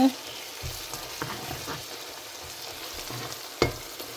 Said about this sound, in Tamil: நல்லா தாளிக்கணும் இந்த வெங்காயம்